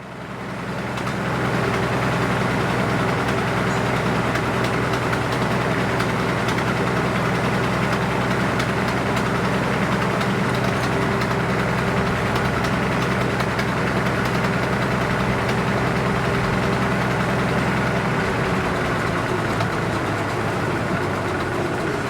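A Frick sawmill runs steadily while milling knotty red cedar, a continuous loud mechanical drone with a deep hum that holds for the whole stretch and changes pitch slightly near the end, with no talking.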